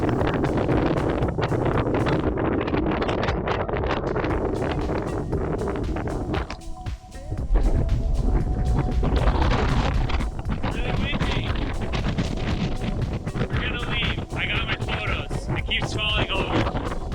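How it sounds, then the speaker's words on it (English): Strong wind in the Oregon mountains buffets the microphone in loud, continuous gusts with rustling throughout. "And the wind was making it pretty hard."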